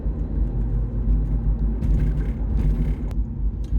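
A 25-year-old Alfa Romeo 156 drives over bumps and accelerates, giving a steady close engine and road rumble with a few brief knocks and rattles from the suspension partway through.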